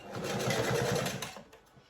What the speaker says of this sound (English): you need an heavy duty sewing machine. Okay, so let's stitch.